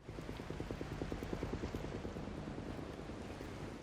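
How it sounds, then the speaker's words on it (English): A rhythmic low thumping of helicopter rotor blades, steady and fairly faint, as if the aircraft is some distance away. "Is that a helicopter?"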